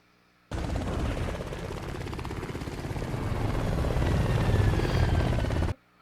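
Two helicopters in an action movie scene, a steady loud rotor thump and engine roar that swells over several seconds and then cuts off abruptly, with faint crackles like distant gunfire mixed in.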